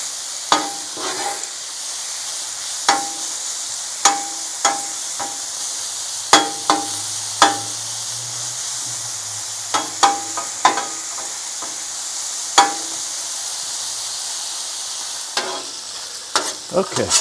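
Bacon sizzles steadily on a Blackstone griddle with a constant bright hiss, punctuated by sharp metal spatula scrapes and taps at irregular intervals.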